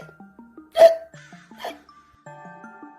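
A voice imitates hiccups for a skeleton character in a children's story: two sharp, close vocal hiccup yelps over soft, bouncy cartoon background music with descending blips.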